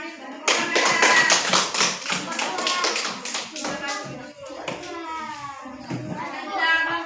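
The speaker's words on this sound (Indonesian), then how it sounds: "Beri tepuk tangan." Classroom clapping for a group of students, brisk irregular hand claps in a burst near the start, followed by children's voices and chatter as the clapping thins out.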